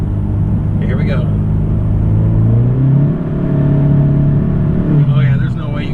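Boosted Honda Civic X engine revving hard with a slipping clutch, a loud steady drone that swells and dips in pitch, with people talking over it.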